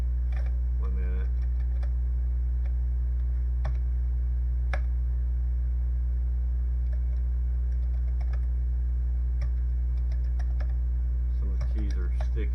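Typing on a Commodore 64 keyboard with sticking keys, heard as scattered, uneven clicks and taps spread across the clip over a steady low hum.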